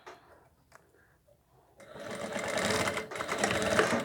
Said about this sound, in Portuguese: passando uma costura reta aqui